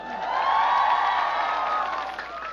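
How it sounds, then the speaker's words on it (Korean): A concert crowd at a Korean band show claps and cheers, a sustained wash of many hands and high excited voices that swells and then eases slightly over a couple of seconds. "여러분, 박수 한번 주세요"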